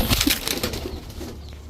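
A restless female Mayna Jhak pigeon flapping its wings in the hand, a short close flurry of fluttering that fades out after about a second.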